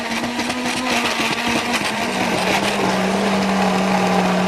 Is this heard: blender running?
yes